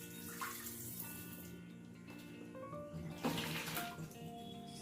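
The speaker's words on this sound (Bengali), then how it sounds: "সেই জন্য বাবা অবশ্যই ফিল্টারের জলে ধুচ্ছি" Running water from filtered supply while food is rinsed in a home kitchen, a steady close splashing stream throughout with a brief louder gush near the middle, no voices.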